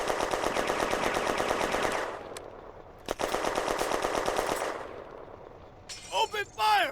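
Sustained automatic gunfire and a tank's high-explosive round in a 1940 Firefight war game battle. Long rattling bursts surround a single sharp blast, then the firing tapers off and a voice or effect rises at the end.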